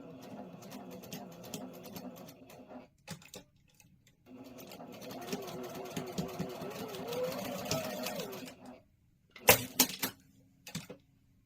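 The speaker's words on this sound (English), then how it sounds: "now I'm going to go ahead and put this on here like this. And sew it" Sewing machine stitching a quilt block, running in steady whirring bursts of a few seconds with brief pauses between, close and moderately loud, ending with a few sharp clicks.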